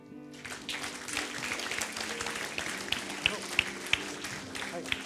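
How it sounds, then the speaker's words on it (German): A live late-night stage show audience greets a guest with vigorous applause, a continuous clapping wash with a few sharper individual claps standing out, and voices mixed into the crowd noise. "begrüße mit einem kräftigen Applaus Ronny Ritze"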